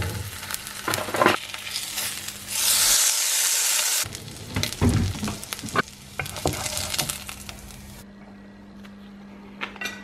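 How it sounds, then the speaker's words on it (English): A slice of home cured pork belly bacon fries in a pan, a steady close sizzle with crackling bursts and stirring clatter, fading lower toward the end. "Right, just fry one bit for now."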